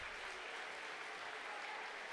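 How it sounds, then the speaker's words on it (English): Boys at a school wrestling assembly clap for a visiting coach, a continuous wash of crowd applause that stays fairly faint and distant. "Boys clapping for him now."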